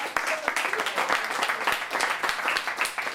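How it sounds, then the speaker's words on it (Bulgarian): Audience applause for a woman at a weight-loss course celebration, dense steady clapping from a room of people filling the moment, with some sharp individual claps standing out. "Аплодисментите си за нея."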